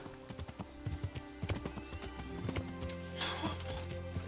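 A horse in the video game Kingdom Come: Deliverance, rhythmic hoof clip-clops close by with a whinny partway through, fairly quiet.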